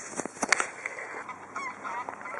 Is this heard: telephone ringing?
no